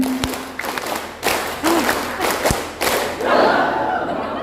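Group clapping from teachers in a classroom training session: sharp, broadband claps in a loose, uneven rhythm over a few seconds, then a burst of crowd chatter and laughter at the end.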